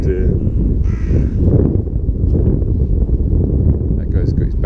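Crows caw repeatedly in a wooded spot during feeding, with harsh calls bursting out over steady wind buffeting the microphone and a voice speaking now and then.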